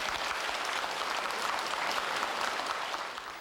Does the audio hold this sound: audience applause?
yes